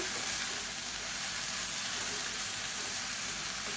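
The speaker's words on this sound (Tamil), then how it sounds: "இப்போ இந்த இலை சுருங்குற அளவுக்கு மட்டும் வதக்கினா போதும்" Mint and coriander leaves sauté in a hot pan, giving a continuous close hiss and crackle of frying with no pauses or voices.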